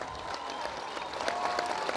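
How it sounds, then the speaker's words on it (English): An audience claps at a Barack Obama speech at the Sauti Kuu centre launch, a dense crowd round of applause that swells slightly toward the end, with no speech over it. "A round of applause, everybody."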